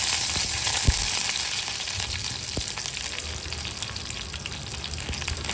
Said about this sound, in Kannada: ತುಪ್ಪ ಬಿಸಿ ಆದ ತಕ್ಷಣ ಸ್ವಲ್ಪ ಸಾಸಿವೆ ಸೇರಿಸೋದು.